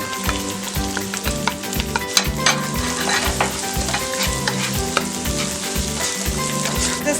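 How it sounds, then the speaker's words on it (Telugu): Ginger garlic paste fries with salt, coriander powder, garam masala, chili powder and turmeric for a chicken liver curry, a loud continuous sizzle broken by repeated rhythmic scraping strokes of a stirring spoon in the pan. "1 స్పూన్ ఉప్పు, 1 స్పూన్ ధనియాల పొడి, గరం మసాలా, 2 స్పూన్స్ కారం, కొంచెం పసుపు వేసుకొని ఫ్రై చేసుకోవాలి."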